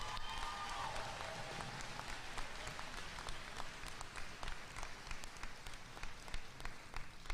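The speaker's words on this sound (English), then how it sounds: "Give yourself a round of applause." High school graduation crowd applauding, dense continuous clapping from many people, moderately loud and steady across the whole stretch with no talk over it.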